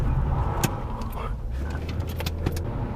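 A manual-transmission car drives along with a steady low engine and road rumble heard from inside the cabin, a couple of light rattles and a faint voice in the background.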